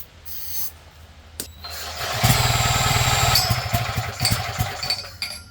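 A 250cc twin-cylinder minibike engine running on carb cleaner cranks, then catches and sputters into a rough, loud, rapid popping run that surges and stumbles briefly before fading unevenly.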